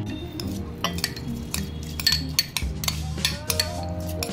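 Soaked foxtail millet grains spooned into a mixer jar, a run of quick metallic clinks and light scrapes of spoon on steel, close and clear, ringing irregularly over a faint background hum.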